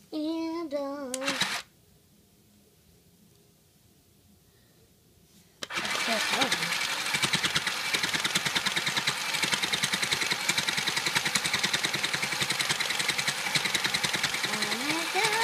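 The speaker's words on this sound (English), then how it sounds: "Let's start sewing and sewing till we're gone." A sewing machine stitches steadily and loudly with a fast, even mechanical whir, starting up after a singing voice and a quiet pause and then running continuously.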